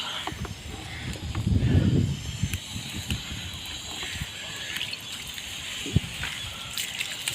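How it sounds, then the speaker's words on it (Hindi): Clean water runs from a village borewell, a steady splashing gush with a louder surge near the start, then a continuous close wash with a sharp knock partway through. "साफ सुथरा पानी"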